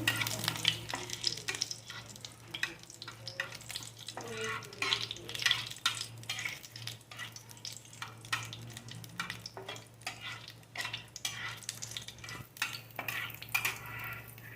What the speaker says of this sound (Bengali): এটা আমি ফোড়নে দিয়ে দিচ্ছি, করে নিচ্ছি